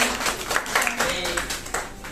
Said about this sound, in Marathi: जोरदार टाळ्या झाल्या पाहिजे.